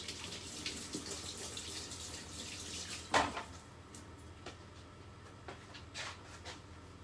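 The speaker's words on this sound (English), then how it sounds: "We'll give this pepper a little wash." A pepper is rinsed under a running kitchen tap, a soft steady stream of water splashing in the sink with a brief louder gush partway through and faint handling sounds.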